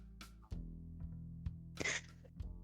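A single close sneeze bursts out once, partway through, over a steady low hum from a casual live-streamed visual novel gaming session.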